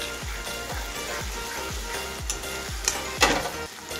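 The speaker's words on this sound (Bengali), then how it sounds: "দেখো পুরো একদম ভালোভাবে ভাজা হয়ে গেছে।" Masala spice paste fries in a pot for a homemade mutton curry. The sizzle is close and constant, and a spatula scrapes through it in an even rhythm about three times per second, ending with a louder clatter.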